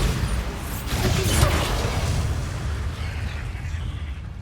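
Bombarda spell blast in Hogwarts Legacy, a loud rumbling explosion that swells in the first second and a half and then trails into a sustained roaring decay.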